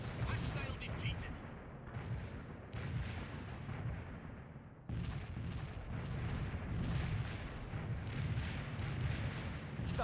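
Dense, continuous battle sound from the real-time strategy game World in Conflict: booming artillery and rapid gunfire roll without a break, loud and close, with a short lull around the midpoint before the barrage resumes.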